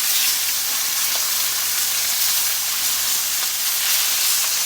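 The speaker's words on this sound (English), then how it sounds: "I already know the sizzling pan is super loud" Food sizzles loudly and steadily in a hot frying pan during home dinner preparation, a constant bright hiss with no voices over it.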